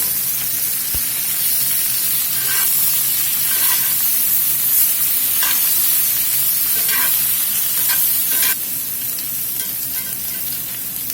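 Vegetables for salsa verde roast in a hot pan with a loud, continuous sizzle and hiss, broken by occasional scrapes and clicks of stirring, no talking.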